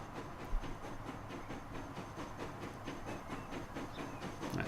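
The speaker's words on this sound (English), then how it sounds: "we'll just watch our steel train emerge as is tradition" A steel train departs in the Transport Fever simulation game, its steady rolling rumble broken by a regular clickety-clack of wheels over rail joints, heard alone at a moderate level.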